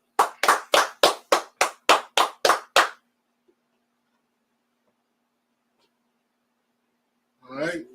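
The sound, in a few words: audience clapping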